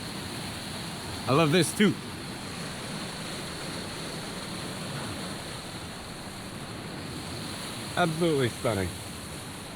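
Steady broadband rush of the waterfall at Jackson Falls, New Hampshire, running continuously at moderate level with two short bursts of talk over it.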